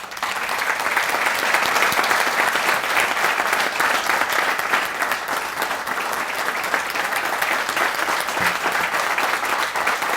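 An audience at an outdoor college groundbreaking ceremony for a health sciences center gives sustained, dense applause that holds at an even loudness for the whole stretch.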